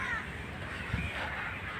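Crows caw at dusk in a botanical garden, the calls distant and fairly faint over a steady outdoor background hum.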